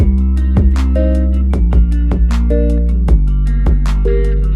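A loud, deep, low-pitched guitar riff pitch-shifted down an octave, with a woozy, droning quality, repeated notes struck in a steady rhythm with no voices.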